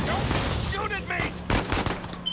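Rapid gunfire bursts in the video game Uncharted 4, sharp crackling volleys overlapping with someone talking excitedly over the action, loud and close throughout the short stretch.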